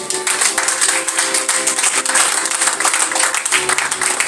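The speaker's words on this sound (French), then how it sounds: "Est-ce qu'on peut l'acclamer fortement?" A church congregation at a Sunday service claps in loud, steady applause that fills the room, continuing without a break before fading slightly near the end.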